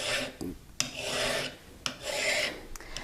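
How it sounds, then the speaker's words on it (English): A metal file rasps against a forged ring held in half-round pliers, giving three or four long, even strokes up close with brief pauses between them. "they can help you to hold the ring as you file"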